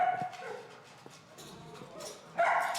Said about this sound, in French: Mais c'est un bon chien. Il va pas me mordre, je t'assure.